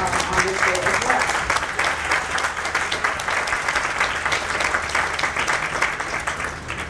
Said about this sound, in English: I think they deserve another round of applause on this day as well.